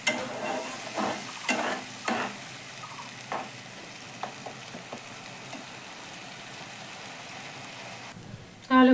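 Onions frying in hot oil in a wok until golden brown, with a steady close sizzle broken by several louder bursts of stirring and scraping, then a sharp loud flare of sizzling at the very end.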